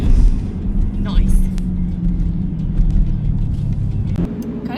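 A Pontiac G8 cruises home on the road, its steady low engine and road rumble droning throughout, with a person talking over it.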